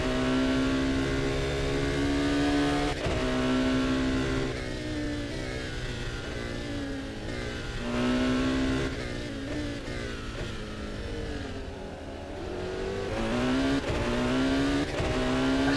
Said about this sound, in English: Just an amazing engine sound there as he flies through the corners.